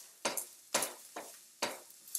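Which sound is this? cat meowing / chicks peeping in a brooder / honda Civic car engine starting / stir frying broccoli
stir frying broccoli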